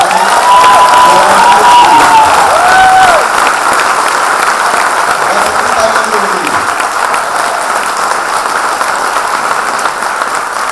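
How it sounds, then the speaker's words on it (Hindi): A large audience at a company gathering gives loud, sustained applause with cheering and a few high shouts early on, the clapping staying dense and even throughout. "तो मैं चाहूंगा आज इतनी ताली उन लोगों के लिए बजे"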